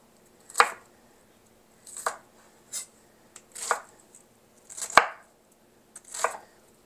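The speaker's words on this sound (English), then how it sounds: "I'll run my knife through and really mince them finer" A knife minces tarragon-chicken ingredients on a cutting board in six separate, crisp chopping bursts spaced about a second apart, close and clear against near silence, with no talk.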